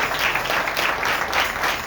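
Steady, loud applause from a congregation at a Sunday morning church service, a dense wash of many hands clapping together continuously without pause.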